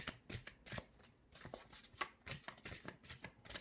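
Tarot cards are shuffled and cut by hand in a quick, soft run of papery riffles and slaps, faint and close, with no talk over them.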